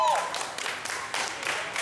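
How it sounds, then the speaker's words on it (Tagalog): Clapping from a church congregation, a brief burst of hand claps heard fairly near with a roomy, uneven texture. "Palakpak mo na! Palakpak!"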